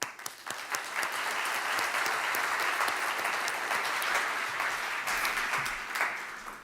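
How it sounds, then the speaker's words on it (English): Warm audience applause at the European Communication Summit 2012 as a speaker is welcomed, dense sustained clapping from a large crowd filling the room, steady and full for several seconds before tapering. "please give a warm round of applause to Tomas Jensen"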